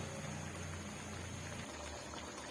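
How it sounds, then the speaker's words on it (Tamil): A pan of thick masala gravy bubbles and simmers, a dense, steady gurgling hiss up close with no talking. "நல்லா கொதிச்சு வரட்டும்"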